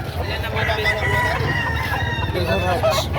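A gamecock rooster crows at a livestock auction market among other fowl, amid busy crowd chatter with people talking nearby.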